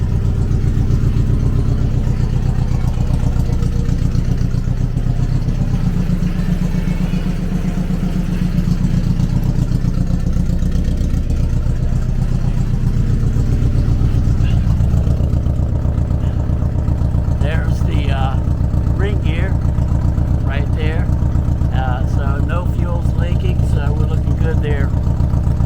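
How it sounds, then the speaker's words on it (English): A car's engine runs at a steady idle close by, a constant low hum throughout, while a person talks over it. "But car cranked right up, charging."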